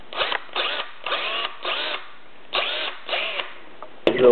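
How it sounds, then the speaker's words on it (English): A DeWalt cordless drill whirs in short repeated bursts, about six quick runs with brief pauses between, close and fairly loud. "Drill works fine."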